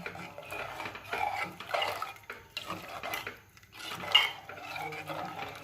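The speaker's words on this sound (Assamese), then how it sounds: "বাটাৰখিনি দি পিনি অলপ সময় এনেকৈ লৰাই থাকিম।" A spoon stirs butter into khichdi in a pot, giving close, irregular metallic scrapes and clinks against the pot in short bursts with brief pauses.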